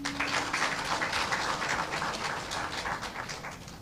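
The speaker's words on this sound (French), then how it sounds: "que je vous prie d'applaudir" Audience applause at an official ceremony introducing heads of state, a dense wash of clapping that stays fairly even and gradually thins toward the end.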